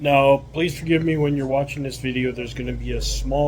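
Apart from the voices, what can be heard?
None of the usual background noises is heard.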